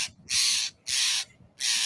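Three harsh, raspy blue jay calls in a row, each about half a second long, loud and close, separated by short quiet gaps.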